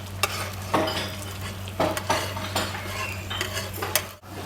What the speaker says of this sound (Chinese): 留点油，把蛋一煎。